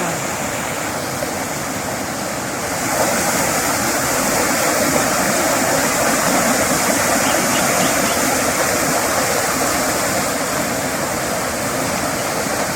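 Waterfall water rushes in a steady, loud, broadband roar that swells slightly after a few seconds and holds without break, no voices.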